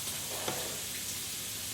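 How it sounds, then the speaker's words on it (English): Steady crackling sizzle of pork and vegetables frying in a pan, a soft continuous hiss with faint pops, moderately quiet throughout. "And this is still sizzling away."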